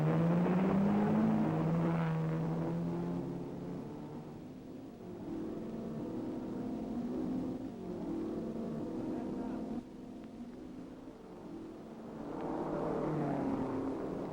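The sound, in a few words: racing cars at the start of a Le Mans-style race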